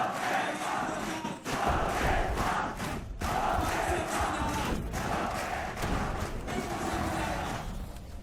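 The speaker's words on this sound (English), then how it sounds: "Listen to the crowd willing them forward." A large indoor esports crowd roars continuously, loud and sustained, with surging chants and cheers rising and falling in waves.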